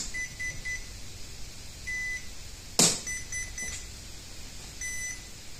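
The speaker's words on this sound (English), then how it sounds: "I'm going to power up each of the ESCs. You'll hear the beeps" Electronic speed controllers for a trolling motor's wireless remote throttle power up with a series of short high beeps, a few pulses early, then a sharp burst near the middle and more beeps after it, close and clear over a quiet background.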